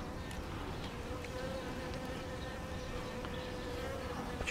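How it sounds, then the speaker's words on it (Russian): Honeybees buzz around water troughs at an apiary in spring, a steady, dense hum of many insects with occasional louder passes close by, no voices. "Пчелки еще есть"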